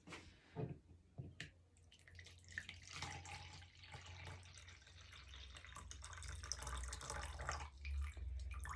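Water pours steadily into a measuring container nearby, filling to the 300 millilitre mark, a soft continuous splashing that grows slightly fuller as it fills, with no talking.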